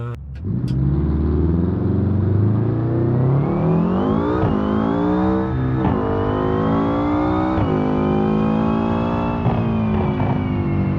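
Car engine in a racing video game revs hard with nitro boost, a loud continuous roar climbing in pitch through several sharp gear-shift drops, with a brief knock at the start.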